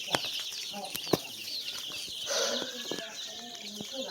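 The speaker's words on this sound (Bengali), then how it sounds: "মুরগিগুলো চঞ্চল আছে, অনেক সুন্দর আছে" Chickens at a rural home flap their wings in short bursts, with faint clucks and scattered knocks nearby, fairly quiet.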